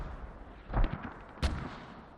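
Two distant artillery shell impacts from a creeping barrage in a squad-based war game, spaced under a second apart over a low rumbling background.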